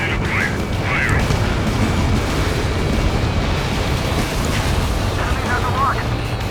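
Missiles launch and burst in a fighter-jet dogfight in Ace Combat 7: Skies Unknown, a dense, loud continuous roar of engine rumble and explosions, with faint radio voices chirping briefly through the din.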